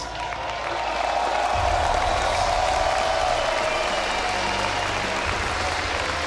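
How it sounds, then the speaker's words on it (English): A large arena crowd at the League of Legends IEM Katowice 2016 grand final claps and cheers in a dense, continuous roar that swells after a second and holds loud throughout. "the crowd here in Katowice cheered the winners regardless of where they were from"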